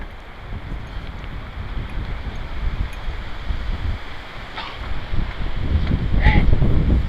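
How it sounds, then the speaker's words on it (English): Cold wind blowing outdoors, a steady broadband rush with rumbling gusts buffeting the microphone, swelling louder toward the end. "It's kind of cold with that wind blowing"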